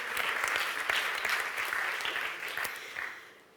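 Audience at a brand content awards ceremony applauding a second trophy win, a sustained burst of clapping that swells early and gradually fades out toward the end.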